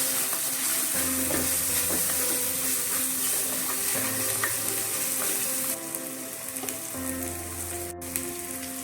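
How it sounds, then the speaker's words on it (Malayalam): Sliced onions sautéing in oil for a Hyderabadi chicken masala, a steady close sizzle with occasional scraping stirs and a faint hum beneath, no talking. "സവോളയൊക്കെ നന്നായിട്ട് വഴണ്ടാവും നന്നായിട്ട് വഴലണ്ട എന്നാലും ഒരുമാതിരി വഴണ്ട് വന്നിട്ടുണ്ട്"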